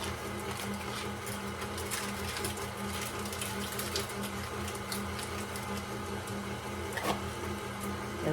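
A mixer steadily whirs through banana cake batter for Dolly Parton's banana cake, a continuous close hum with faint clicks and splashy texture, no talking.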